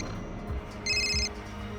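A telephone rings in a Crime Patrol crime drama, giving one short electronic trill burst that is bright and clear over a low room hum.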